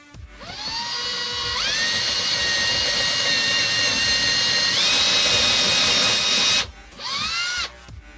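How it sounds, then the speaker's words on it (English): Power drill boring holes into a bunk bed frame during a DIY repair, a loud close whine that ramps up in pitch, holds steady, stops briefly, then revs again in a shorter burst. "that's all the drilling you got to do"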